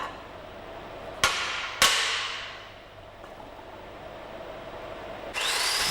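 Welding tack clamps are knocked off a steel sheet after stick-electrode welding: two sharp metallic knocks about half a second apart, then a louder burst of noise near the end, heard close in a quiet workshop.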